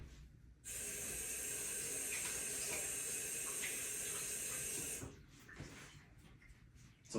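Tap water runs steadily into a sink to wet hands while shaping sourdough, a continuous close splashing flow for about four seconds before it shuts off, leaving faint handling sounds.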